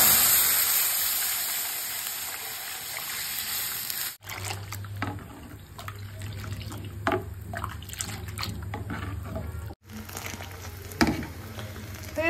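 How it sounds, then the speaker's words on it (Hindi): Fenugreek seeds, cumin and ajwain tempered in hot oil give a bright continuous sizzle that fades, then soft crackles, pops and faint stirring against a low kitchen hum. "इसमें मैं छौंका लगाऊंगी तो ये मेथी दाने का, जीरा, अजवाइन"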